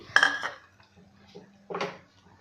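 Sesame and peanut mixture stirred in a pan over low flame, with two short bursts of scraping and clinking against the pan separated by near silence.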